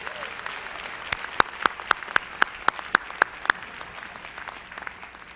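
Large audience applauding an orchestra and gospel choir at an MLK convocation, a steady wash of crowd clapping with a run of distinct, sharp individual claps standing out close by.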